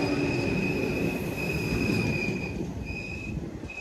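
The Tirupathi Express, running between Tirupathi and Kakinada Port, rolls at modest speed with its wheels squealing in long, high, sustained whines over a steady, close rumble of carriages.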